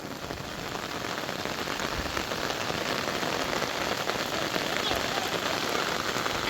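Steady rain patters on a surface, a dense even hiss throughout with no pauses, moderately close.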